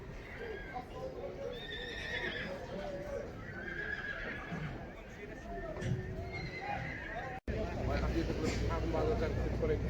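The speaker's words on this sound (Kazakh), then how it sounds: "Қора жылқылар." Horses at a livestock market neighing and whinnying repeatedly, close and loud, with hooves clip-clopping and people talking in the background.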